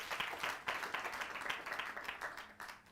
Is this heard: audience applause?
yes